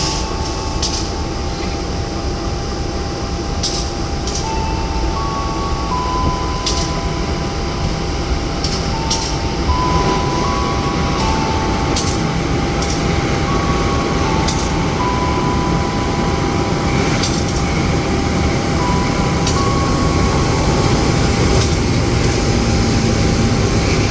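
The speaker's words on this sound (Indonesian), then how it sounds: "Dua lokomotif sekaligus untuk hari ini yang narik kereta api Kuto Jaya" Two locomotives, one of them CC206 1307 from the SMC depot, haul the Kutojaya Selatan economy train with a loud, steady rumble and rolling rail noise that runs unbroken throughout, with sharp metallic clanks and squeals poking through.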